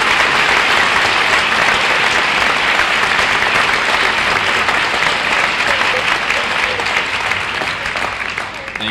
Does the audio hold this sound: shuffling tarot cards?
no